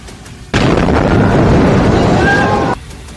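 Rocket barrage explosions striking the Gaza Strip in wartime, heard as a sudden loud, sustained roar of blasts and rumbling that lasts about two seconds before cutting off, with no talk.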